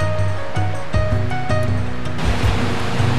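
Small waterfalls on a mountain river give a steady, close rush of water that fills the whole stretch with broad, even noise and a few faint tonal streaks.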